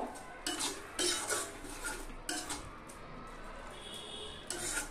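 Ghee being stirred through a banana flower and prawn curry (mochar ghonto) in a pan, with repeated scraping and clinking of a spoon against metal in uneven bursts, close by with no talk.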